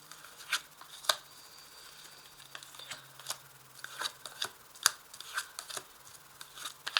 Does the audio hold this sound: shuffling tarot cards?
yes